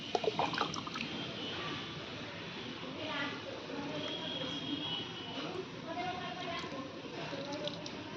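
A rooftop tap fills a container for watering plants: a steady, close rush of running water that holds even throughout.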